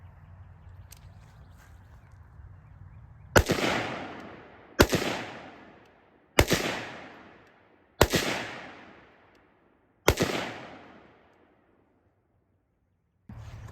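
Five sharp, loud rifle shots fired at a target, spaced about one and a half seconds apart, each followed by a short ringing decay, with quiet background between.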